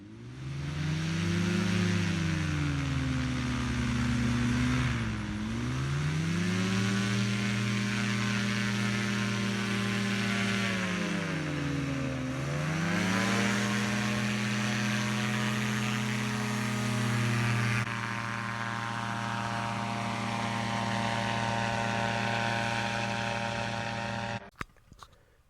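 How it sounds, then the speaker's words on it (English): An open-cockpit aircraft drones steadily in flight, a loud, continuous engine hum that dips and rises twice with throttle changes, then settles before an abrupt cut near the end. "Once we got up in the air, it was basically like flying in an airplane, except it was an open cockpit"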